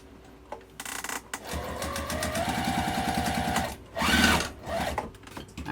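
A sewing machine top stitches across a fabric wallet made from two fat quarters, running in a fast, steady whir with rapid needle pulses, pausing briefly twice before starting again, close up and with no talking.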